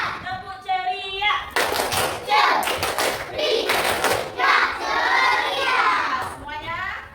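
A class of primary-school children in Palembang performs the 'tepuk ceria' routine, sung chanting in unison punctuated by sharp bursts of rhythmic group clapping, close and lively.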